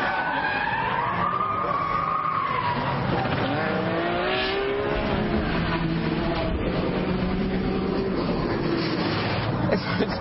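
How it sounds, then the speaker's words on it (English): Ferrari Enzo with its 600-horsepower engine pulling hard, a loud continuous roar with rising and falling engine tones and some tyre noise throughout, steady and close. "But I believe that 600 horsepower right underneath my foot."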